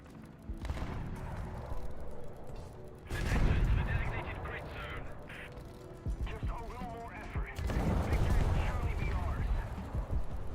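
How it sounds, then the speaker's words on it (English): Bombs fall on a Super Pershing tank in a video game, heavy booming blasts and crackling gunfire hitting in loud bursts, while someone talks over the battle noise. "I'm bombing him now. He's getting all of the bombs from whatever this is."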